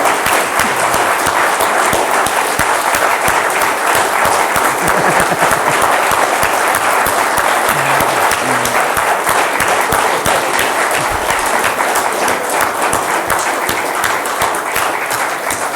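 Sustained applause fills a meeting hall in Warsaw for the full stretch, steady and dense, with no break in the clapping.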